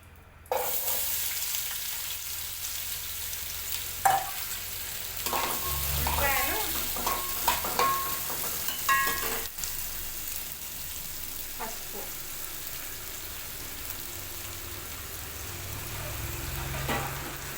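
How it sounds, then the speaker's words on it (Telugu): Onions frying in oil in a pan for egg curry, a steady soft sizzle broken by scraping and stirring sounds from a utensil, close and moderately quiet, with no talking. "కొంచెం ఉప్పు వేసి ఉల్లిపాయలను కొంచెం వేగనివ్వాలి"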